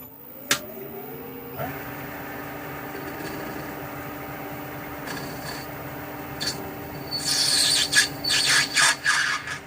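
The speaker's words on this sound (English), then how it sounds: "So I'll just clean up the end, chamfer it, and then we'll thread it with the Whitworth 18 TPI thread." A lathe running while a 5/16 inch brass bar end is cleaned up and chamfered, a steady machine hum that grows into harsh, rasping cutting bursts toward the end.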